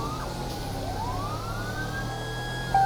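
A police siren in Grand Theft Auto V wails, sweeping up and down in pitch over a constant engine drone, fairly loud and close, with no talking.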